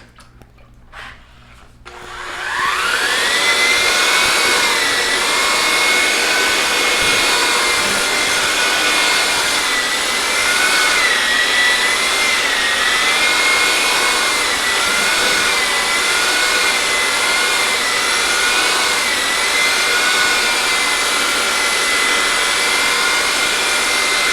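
A Festool MX 1200 E EF mixer churning mud or thinset in a bucket: a brief clunk, then the motor revs up into a loud, steady whine with a slightly wavering pitch that holds for about twenty seconds.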